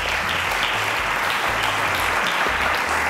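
Studio audience applauding a contestant on a televised school quiz show, a steady wash of clapping throughout, with a low music bed pulsing underneath.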